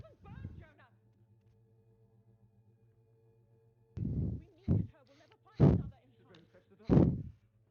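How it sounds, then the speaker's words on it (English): Gunshot effects in an audio drama: several sharp, loud booming shots, spaced about a second apart, ring out over a low background hum after a brief quiet stretch. "Why'd you shoot her, Jonah?"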